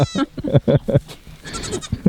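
Goats bleating close by in a rapid series of short, nasal, wavering calls, followed by a brief noisy rustle and another bleat at the end.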